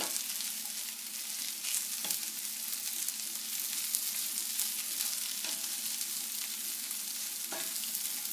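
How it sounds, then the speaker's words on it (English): Diner-style home fries with salt sizzle steadily in a pan, a close, even crackle with occasional stirring scrapes running throughout. "Give it a last stir to mix that in."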